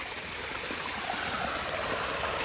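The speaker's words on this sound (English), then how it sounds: "Look at the multiple layers of the waterfalls in there." Multi-tiered waterfall at a water source along the Appalachian Trail in Pennsylvania, a steady, fairly close rushing and splashing of falling water that fills the whole stretch without pause, with no voices over it.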